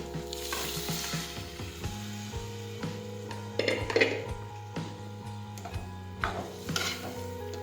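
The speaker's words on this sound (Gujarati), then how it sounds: "આ રીતે આપણે ફેરવતા જશું." A spoon stirs cowpea (choli) curry in a pan, scraping and clinking against the metal over a steady soft sizzle, several close stirring strokes with occasional louder clinks; a low hum runs underneath.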